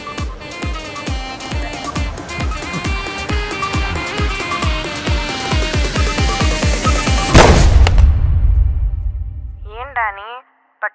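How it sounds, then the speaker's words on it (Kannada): A rapid burst of gunfire from a film, the dozens of sharp shots rattling in quick succession and building to a loud final blast, then fading out under a brief voice. "ಪಟಾಕಿ ಸೌಂಡ್ ಬರ್ತಿದೆ? ಪಟಾಕಿ ಹೊಡಿತಿದ್ಯಾ?"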